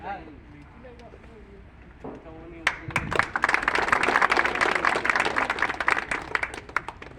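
Audience applause at an award ceremony, with someone speaking first, then scattered claps swelling into loud sustained clapping by many hands.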